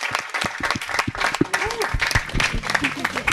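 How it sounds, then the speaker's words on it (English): Audience applause at a weekly health talk show in Bali, scattered claps mixed with voices speaking over them, close and moderately loud throughout. "to you, round of applause"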